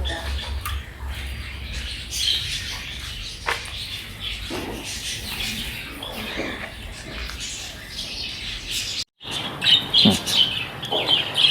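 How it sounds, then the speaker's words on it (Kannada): Cockatiels at a bird park in Doddaballapura give repeated shrill chirps and squawks, with other birds calling around them in a busy aviary. The calls come in scattered bursts and grow louder and denser toward the end. "ಈ ಬರ್ಡ್ಸ್ ಬಂದು ನಿಮಗೆ ಕಾಕ್ಟೈಲ್ ಅಂತ ಇದ್ರ ಹೆಸರು"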